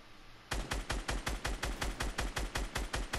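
Rapid automatic gunfire in the Fortnite video game, a loud steady burst of about fifteen evenly spaced shots starting after a half-second pause, with no voices over it.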